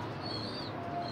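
A racing pigeon back at its home loft after a race in Sirajganj gives a short, soft coo. A thin, faint chirp sits above it, all within quiet surroundings.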